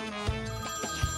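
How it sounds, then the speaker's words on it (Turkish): A telephone rings in a domestic comedy scene, giving a steady electronic bell tone with short pulsing beats, loud and clear with no talk over it. "Telefonun çalıyor."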